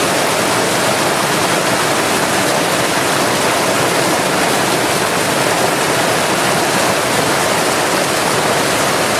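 Waterfall with water rushing and crashing into a pool, a loud, close, unbroken roar of broadband noise that holds steady from start to finish with no voices.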